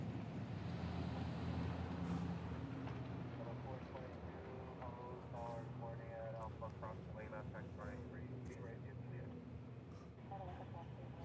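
An ANA Airbus A380 airliner taxis at Honolulu airport, a distant, steady jet engine whine and roar that holds level throughout while people talk over it.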